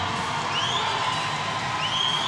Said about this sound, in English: The crowd willing Hotsu onto the win.